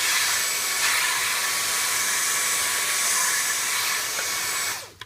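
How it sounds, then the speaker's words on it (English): A Dyson DC34 handheld vacuum cleaner sucks up cracked black pepper with a loud, steady high-pitched whoosh of suction that runs evenly for about five seconds before spinning down. "This is how quickly and efficiently the Dyson DC34 works."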